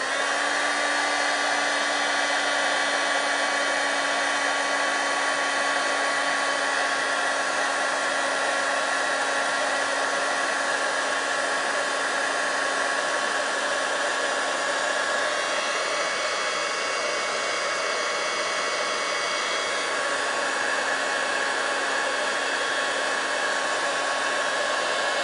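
A hair dryer runs steadily at close range, a loud constant whirring blow with a steady tonal hum that shifts slightly in pitch partway through, with no voices.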